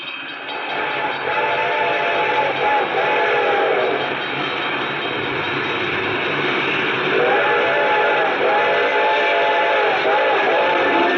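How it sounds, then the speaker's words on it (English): Steam-era train drawing near, its whistle giving long wailing cries in two bursts over a steady rumble of the locomotive and rails, loud and close throughout. "The train was coming closer. I could hear its bell ringing and the cry of its whistle."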